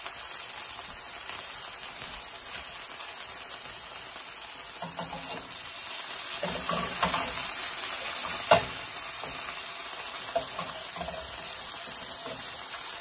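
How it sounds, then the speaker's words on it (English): A cod loin fillet pan-searing in a hot pan gives a steady, close sizzle that swells midway, with a few sharp utensil clicks and stirring scrapes and no voices. "right now all we have to do is pan sear it"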